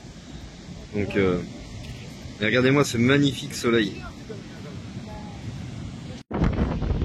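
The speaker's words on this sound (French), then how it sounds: "Par contre, encore désolé pour le vent." Strong wind on a surf beach in southern Spain rumbles against the microphone throughout, a steady low roar under a man's speech, cutting out abruptly for an instant near the end before returning.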